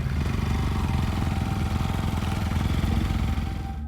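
A motorbike ridden at night on a deserted forest road, its engine putting out a loud, steady, throbbing drone that stays constant for the whole stretch, close and alone with no talk.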